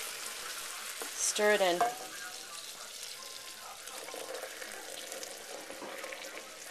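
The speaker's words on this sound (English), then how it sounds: "now I'm adding 2 cups of cream very slowly because the caramel is very hot and it's gonna kind of bubble like that" Hot caramel for fleur de sel caramels hisses and bubbles as cream is poured in slowly, with a loud burst of sputtering near the start that settles into a steady low sizzle while a person talks.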